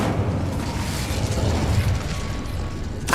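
Fire spell Incendio cast in Hogwarts Legacy: a loud, sustained roaring rush of flame with crackling bursts, steady for several seconds, then a sharp bright flare right at the end.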